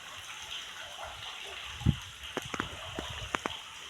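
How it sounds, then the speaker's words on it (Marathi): Water trickles and drips steadily down into a well, with a few sharp splashing drops standing out against a continuous background wash of running water. "बघा कसं मस्त असं पाणी पाण्यामध्ये पडायला लागले"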